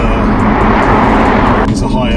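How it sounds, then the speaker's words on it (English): The six-cylinder engine of a 2017 BMW M3 Competition roars loudly and steadily, close and sustained, with a voice talking over it. "It's a bit of a bigger roar as well when that 6 starts moving."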